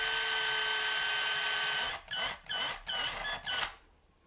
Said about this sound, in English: so we'll start by drilling those out quick.